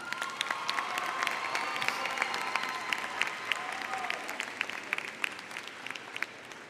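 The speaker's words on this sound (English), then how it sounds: "Let's give them all a round of applause." A crowd applauds at a high school graduation ceremony, dense sustained clapping from a large audience heard from a distance in a big reverberant space, with faint cheers mixed in.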